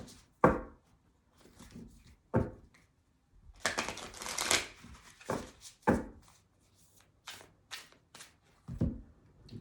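A Starseed Oracle card deck being shuffled by hand: several separate bursts of close riffling and card slaps, with a longer flurry in the middle and quiet gaps between.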